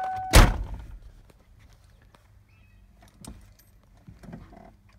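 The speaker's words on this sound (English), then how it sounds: "Let me close my door." The door of a 1994 Ford F350 7.3 IDI turbo diesel pickup slams shut with one heavy thunk up close, then faint clicks and rustles in near quiet.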